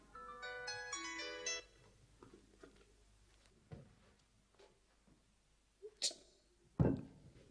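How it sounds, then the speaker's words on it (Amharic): A phone ringtone chimes in a short burst of repeated tones, fairly faint and alone, then falls silent before a few scattered knocks and bumps from a room. "ቁም ነገር ያለው ስልክ ያመለጠሽ ይመስላል"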